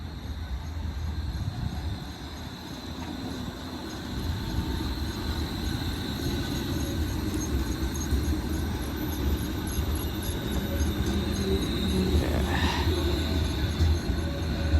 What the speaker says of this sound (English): here is a northbound Ion vehicle heading to Conestoga